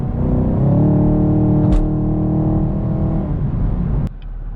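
A 2020 Chevy Camaro 2SS set to track mode drives by in daytime, its engine giving a steady, loud low-pitched growl that holds for a few seconds and then drops off abruptly.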